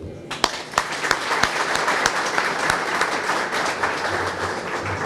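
An audience at the opening ceremony of a university hospital's renovated outpatient clinics breaks into applause, a dense, sustained clapping with sharp individual claps standing out, close and fairly loud throughout.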